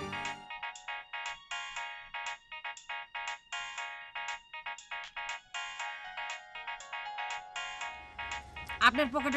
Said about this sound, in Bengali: আপনার পকেটে ফোন বাজে শুনতে পান না?